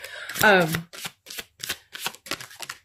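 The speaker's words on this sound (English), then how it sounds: "I'm trying to find a place to shuffle where I'm not covering up the card" A deck of tarot cards riffled once in a quick burst, followed by a series of soft, separate card taps and slides at a steady pace.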